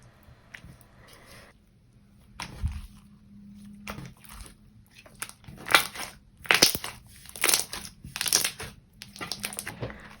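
K-glue slime is stretched and squished, making soft sticky crackles and crinkly pops in several close bursts that grow louder and more frequent toward the end, with no talking.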